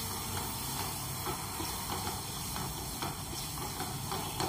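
Turmeric and coriander powder frying in a pan for egg bhurji, a steady close hiss and sizzle with faint crackles throughout, no talk.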